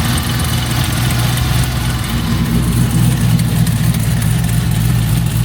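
A 1972 Chevelle RS, raised on a jack stand, idles steadily with a deep, rumbling low note that holds even and loud from start to finish.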